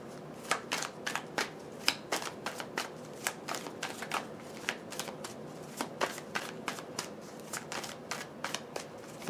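Playing cards are shuffled and handled close up, giving a steady run of quick riffling snaps and soft flicks for several seconds. The room is otherwise quiet and no one speaks.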